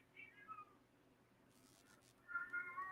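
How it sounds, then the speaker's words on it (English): Pet cats meow indoors, a short call early on and a louder, drawn-out meow near the end, both faint against a quiet room. "And I hear my kitty cats waking up, chiming in on the topic of hand."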